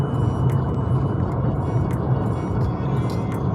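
A 2021 Datsun Redi Go facelift, 800cc version, drives at about 1500 RPM in third gear. Its engine and road noise make a steady, loud, low drone from inside the cabin, with no talk.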